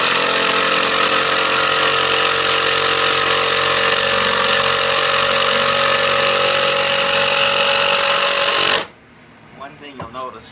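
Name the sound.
power drill drilling through old dry 2x4 wood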